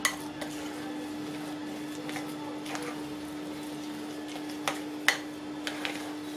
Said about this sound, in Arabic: وغادي نحرك كل شيء مزيان وكنمعك في نفس الوقت